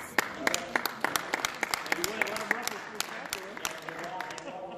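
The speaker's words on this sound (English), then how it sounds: "Here while you're clapping, we'll give him a little happy birthday." Audience clapping at a wrestling event honoring a veteran wrestler: scattered, distinct individual claps ring out in uneven rhythm, fairly close, while voices talk over them.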